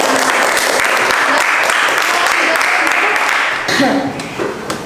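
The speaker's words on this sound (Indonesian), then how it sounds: "Beri tepuk tangan, nilai sempurna." A classroom group breaks into loud, dense applause for a perfect score, clapping steady for several seconds before tapering off, with voices mixed in near the end.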